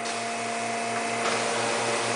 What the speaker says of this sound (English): the oven rolling over the sheet, and that will heat the plastic